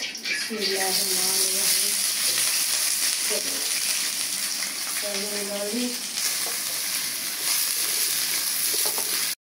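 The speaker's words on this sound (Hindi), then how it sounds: "मुझे तो कढ़ाई ली, इसके अंदर डालूंगी मैं प्याज।" Onions fry in a kadai for mutton kofta curry with a loud, constant sizzle and hiss throughout, while someone talks over the cooking.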